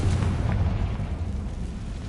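Confringo blasting curse from a Harry Potter game bursts into a heavy, rumbling explosion that rolls on and slowly fades over about two seconds.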